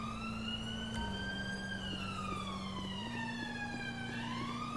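A UK-style police siren in the video game GTA V with the LSPDFR mod, wailing in slow rising and falling sweeps over a steady vehicle engine hum, moderately faint and continuous.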